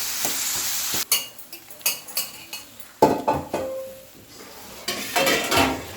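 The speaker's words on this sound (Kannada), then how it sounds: "ಈರುಳ್ಳಿ ಮತ್ತು ಬೆಳ್ಳುಳ್ಳಿ ಮತ್ತು ಶುಂಠಿ ಹಾಕಿ ಫ್ರೈ ಮಾಡ್ತಾ ಉಂಟು" Onions, garlic and ginger fry in a pan for a chicken fry, a soft sizzle broken by repeated clinks and scrapes of a spoon stirring against the pan, close and clear.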